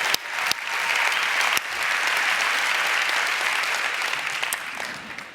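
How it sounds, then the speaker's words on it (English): At a Las Vegas conference of about 3,000 people, the audience gives the parkour team another round of applause, a loud, steady roar of clapping that begins with a few sharp claps and fades slightly toward the end. "Let's give another round of applause for the parkour team."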